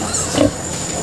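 A large black and native crossbreed sow gives one short, close grunt, loud against a quiet pen background.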